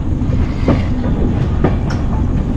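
A Digha to Howrah train pulls in late at night, its wheels giving a loud, close rumble with scattered clacks and squeals over a dense, steady rail roar.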